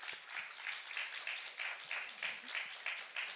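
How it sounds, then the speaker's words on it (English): Audience applause at the close of a film screening and Q&A with human microbiome scientists, a steady, fairly faint wash of clapping lasting a few seconds with no talk over it. "Can we give one last round of applause for our amazing scientists?"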